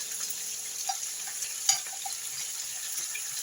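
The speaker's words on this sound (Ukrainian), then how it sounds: "І ось борошно починає вже підрумянюватися, м'ясо обсмажується." Meat and flour fry in a pan, giving a faint, steady sizzle with a few soft pops and light clinks over a constant hiss.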